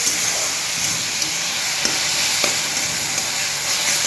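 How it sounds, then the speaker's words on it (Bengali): Apple pieces fry in a pan for apple payasam, a loud, steady sizzle up close, broken by a few faint clicks of stirring and no voices. "এটা হালকা করে এবার ভাজতে থাকবো"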